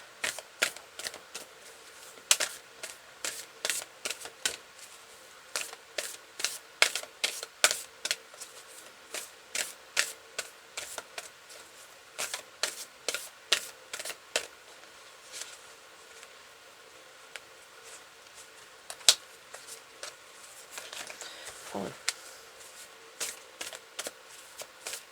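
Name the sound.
shuffling and drawing tarot cards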